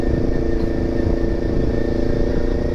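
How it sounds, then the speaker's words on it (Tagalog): A big-engine motorcycle idles through a stock, unmodified muffler, giving a loud, close, steady rumbling exhaust with a fast pulsing beat and no revving. "pag malaki yung makina ng bike natin, natural lang din na malaki din yung buga ng tambutso natin"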